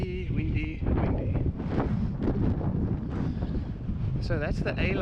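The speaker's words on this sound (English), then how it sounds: "Windy." Wind rushes across the microphone in a steady, loud roar on a mountain bike flow trail at Bloemendal, with a voice speaking under the buffeting noise.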